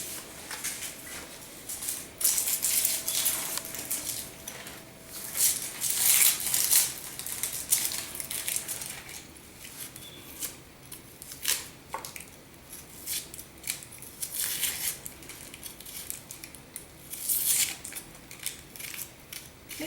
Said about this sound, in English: I'm going to peel and chop my onion